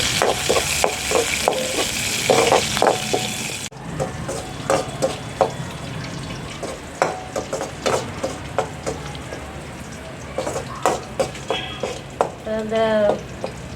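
Garlic, green chillies and cinnamon frying in a pan for a goat blood curry, with crackling sizzle and scattered stirring clatter throughout, brief spoon scrapes near the end.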